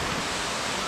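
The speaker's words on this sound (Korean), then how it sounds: "용소폭포 도착했습니다." Dense, steady roar of rushing water from Yongso Falls in Seoraksan, South Korea, broadband and continuous, close by, with no voices.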